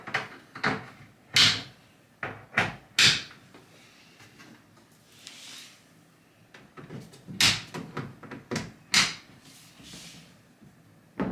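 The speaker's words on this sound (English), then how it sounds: "we can go ahead and clip our doors back onto our cabinet" Lazy Susan cabinet doors being clipped onto their hinges give a series of sharp clacks and snaps in uneven clusters, close and distinct, with quiet pauses between.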